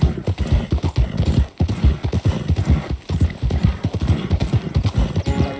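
A horse ridden in Red Dead Redemption 2 pounds out steady, close hoofbeats in a fast, rolling gallop rhythm that continues throughout, with a brief whinny near the end.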